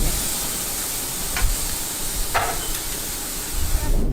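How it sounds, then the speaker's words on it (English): Swordfish steaks sizzling on a grill, a steady broadband hiss lasting throughout with a couple of brief louder bursts, no voices. "So we are going to put these steaks on the grill, let them cook up"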